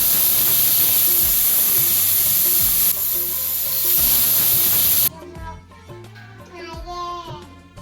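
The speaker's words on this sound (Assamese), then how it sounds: "কুকাৰটো বন্ধ কৰি লৈ 2টা হুইচেল মাৰিব দিম" A pressure cooker boiling elephant apple with water and salt lets off a loud, sustained steam hiss for about five seconds, then falls quiet as music takes over.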